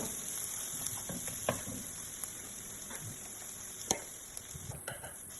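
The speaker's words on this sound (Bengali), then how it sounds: "তারপর একটু ধনে গুঁড়ো নিয়ে আবার একটু ভেজে নিচ্ছি মশলাটাকে।" Masala with coriander powder fries on low heat in a pan with a faint, steady sizzle, broken by soft scrapes and taps of stirring.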